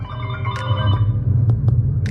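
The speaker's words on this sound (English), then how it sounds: "who starts recording a phone call while the phone's still ringing" A telephone ringing in short repeated electronic tones over a low steady rumble, fairly loud and close.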